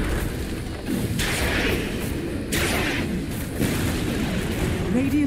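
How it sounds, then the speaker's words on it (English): Middle tower collapsing in Dota 2 under attack, a steady dense rumble of heavy booming impacts and crashes with repeated bursts, loud and continuous throughout. "Radiant's middle tower has fallen"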